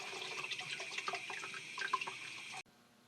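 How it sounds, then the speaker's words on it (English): Frac sand being washed with water in a lab setup simulating a hydrosizer or mine wash plant, a steady close rush and splash of running water with small irregular trickles, cutting off abruptly near the end. "here to wash this sand, simulate like a hydrosizer or a wash plant at a frac sand mine"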